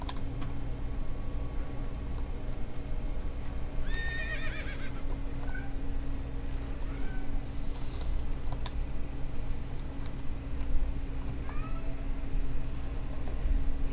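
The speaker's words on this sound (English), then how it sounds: "You are hearing my cat, Spike." Pet cat Spike crying at his water dish, several short plaintive meows scattered across the stretch over a constant low electrical hum and faint clicking, the cries fairly close and moderately loud.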